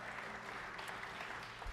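Applause from a California town hall audience, a faint, steady wash of many hands clapping with no other sound standing out.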